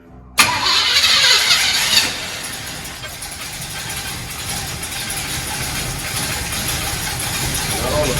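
A 1981 Oldsmobile Delta 88 V8 is cranked after the choke is reset: the starter catches with a sharp burst, the engine roars loudly for a couple of seconds, then settles into a steady, rough, close-up idle.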